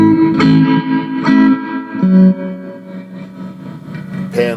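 A 1974 Fender Princeton Reverb amp's spring reverb: guitar notes and chords played loud and close, each tail washing out into a lingering splashy decay, ending with a sharp twang.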